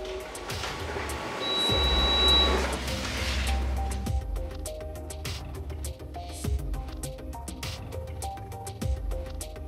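Canon laser printer, an MF272dw/MF275dw/LBP122dw-series machine, running off a test page: a steady mechanical whir that swells and then settles into a rhythm of soft clicks and clacks.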